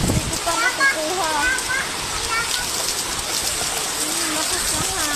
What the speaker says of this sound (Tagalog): nandito na yung bagyo. Sobrang lakas ng hangin at ulan.